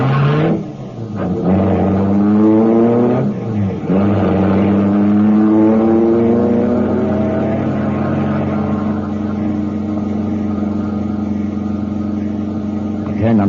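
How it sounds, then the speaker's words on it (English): A car engine revs hard and pulls away fast, its rising harmonic whine climbing through the gears with loud, steady acceleration close by and no other sounds over it. "The motor turned over, and I got out of there as fast as the car could make it."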